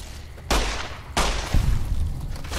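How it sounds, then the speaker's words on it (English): Gunfire from the video game Fallout: New Vegas: three sharp, loud shots, the first two well spaced and the third following quickly, each with a short booming tail over a low background. "And of course you're going to shoot at this."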